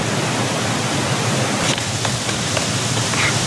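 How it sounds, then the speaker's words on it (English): A jungle waterfall from the film Rambo: First Blood Part II, heard as a steady, dense roar of rushing water that stays constant and fairly loud throughout, with no voices. "You hear the waterfall in the background."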